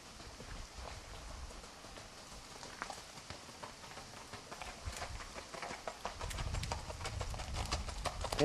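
A Fox Trotter mare, about 15-1 hands, gaits along with a soft, steady, rhythmic clip-clop of hooves, faint and somewhat distant over a hissing outdoor background.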